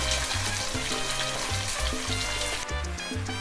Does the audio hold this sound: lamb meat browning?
yes